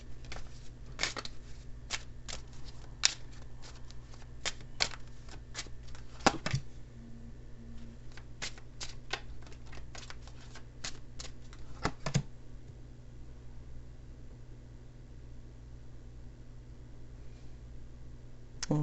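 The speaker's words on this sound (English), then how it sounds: "I'm going to pull a couple of Lenormand cards here" Lenormand cards shuffled at a tarot reading, a run of soft, quick riffling clicks and flutters that come in bursts over a steady low background hum, with no talking.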